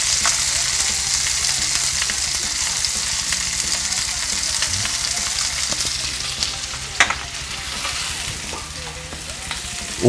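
Butter and thyme fry in a pan with a steady, close sizzle and crackle, along with occasional stirring scrapes.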